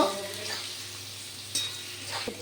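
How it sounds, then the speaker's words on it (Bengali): Onions frying in a pan with a steady, moderate sizzle and occasional stirring scrapes, close by with no talk. "এবার দিয়ে দেবো পেঁয়াজ। পেঁয়াজগুলোকে ভালো করে ভেজে নেব"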